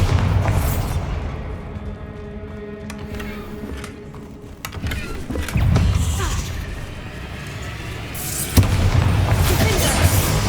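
Bombarda blasting spells detonate in Hogwarts Legacy, loud booming explosions with crashing debris that land several times over a dense game soundscape, with a sharp burst near the end.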